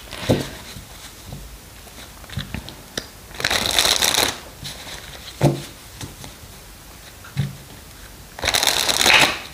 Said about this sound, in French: j'ai du mal à battre les cartes